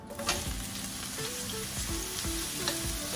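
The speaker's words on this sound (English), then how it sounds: "In the meantime, we're gonna put the mushroom." Mushrooms sautéing and caramelizing in a pan for a wonton soup, a dense continuous sizzle with scattered crackles and occasional scraping stir sounds, close and steady throughout.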